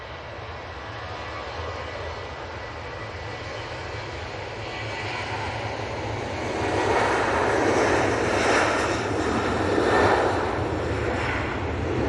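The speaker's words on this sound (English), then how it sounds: "that is the Ryanair from Gdansk" A Ryanair Boeing 737-800 from Gdansk at Manchester Airport, its jet engines a steady broadband roar that swells louder partway through as the airliner rolls past nearby, with no voices.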